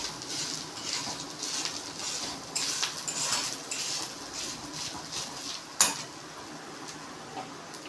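Grated coconut being sautéed in a pan for coconut rice, with a soft sizzle under light scraping and stirring of a utensil against the pan, plus one sharper clank.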